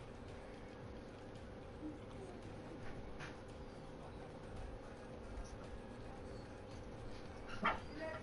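Dog whimpering and giving small yips and barks indoors, faint and intermittent over a low hum, with a sharper bark near the end and some quiet talk in the background.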